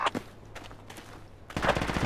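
Automatic gunfire rattles in Project Reality v1.3 on the Sbeneh map, with short bursts at the start and middle and a louder, denser burst near the end.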